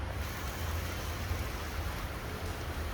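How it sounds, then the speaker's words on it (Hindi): Steady rain falls outside in the early morning, a dense even hiss with a low rumbling undertone that holds unchanged throughout, with no voices. "इस समय बारिश चलती हुई बाहर"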